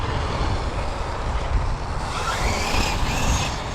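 An Arrma Mojave RC car fitted with Traxxas radio gear drives a lap, its electric motor giving a steady, fairly loud whine with a slight rise in pitch near the end.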